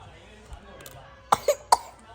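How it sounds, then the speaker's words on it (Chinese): A child coughs indoors at home: three sharp, close coughs in quick succession after a quiet start. "哎呦，这咳嗽挺厉害的呢。"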